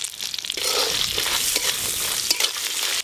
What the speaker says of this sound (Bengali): প্রথমে আমি কাঁকড়াগুলো ভালো করে ভেজে নেব